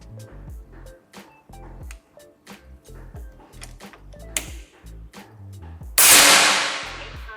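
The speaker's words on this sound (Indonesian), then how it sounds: "Ini tembakan yang ketujuh." FX Impact M4 air rifle shots and impacts at a target: a series of sharp clicks and taps, with a louder crack near the middle and a strong burst of noise toward the end, close by and without talk.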